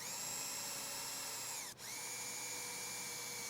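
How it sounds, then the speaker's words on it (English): A power drill fitted with a 5/64 bit runs at a steady high whine while boring small pilot holes for turnstile hardware screws, briefly bogging down in pitch midway before spinning back up, close and alone. "grab your 5/64 drill bit, send it through those little holes"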